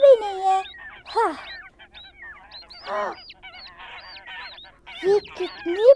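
A cartoon duck in a children's story honks and quacks in a series of bright, nasal calls spread across several seconds, some clustered and some spaced apart, close and fairly loud with no talk over them.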